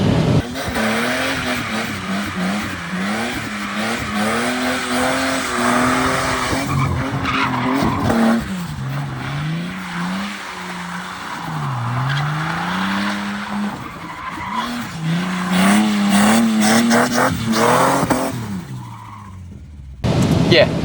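A Ford AU Falcon on a dyno with almost no rear tyres left, rear wheels spinning in second gear, giving a loud, sustained tyre squeal and rising engine whine with wavering pitch that runs near the whole time before cutting out near the end.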